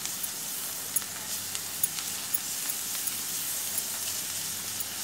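Sliced onions fry with ginger-garlic paste in hot oil, giving a steady bright sizzle with faint scraping as the mixture is stirred. It is close and continuous, and no voices are heard.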